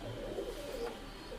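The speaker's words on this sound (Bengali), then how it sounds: "128 প্রচন্ড ছটপটে কবুতর" Teddy pigeons imported from Oman give soft, low cooing close by, a continuous murmuring coo without any talking.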